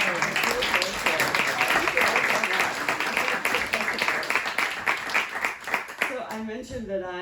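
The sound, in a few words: audience applause at poetry cafe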